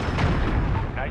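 Brief, heavy, rumbling blast of a missile explosion in Call of Duty: Modern Warfare, loud and broad, with a voice speaking over it.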